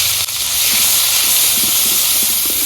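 Onion and garlic paste sizzles in a pan over a clay stove, a loud steady hiss filling the clip with faint crackles underneath, close and continuous.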